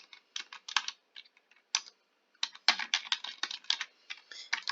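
Quiet, close keystrokes on a computer keyboard as a name is typed, coming in quick irregular bursts with short pauses between words, with no talking.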